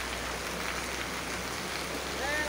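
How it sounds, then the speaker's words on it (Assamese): Heavy rain falling in Bokakhat town, Assam, a dense, steady hiss of downpour heard close and unbroken throughout. "দেখিছে কিমান বৰষুণ দিছে ইয়াত"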